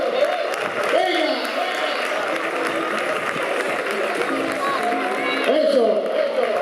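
Audience applause at a youth cadet and junior running race in Gijón, a sustained crowd clapping with cheers rising and falling, while an announcer talks over it throughout.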